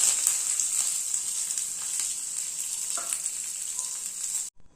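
Steady, bright sizzle of mustard seeds, cumin, lentils, onion, ginger and curry leaves frying in hot oil for tempering, a continuous crackling hiss with small pops, running alone before cutting off abruptly at the end.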